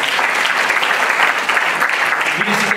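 An awards ceremony audience in a hall applauding, a dense, steady wash of clapping heard up close with no pauses.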